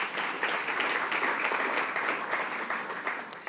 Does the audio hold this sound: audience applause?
yes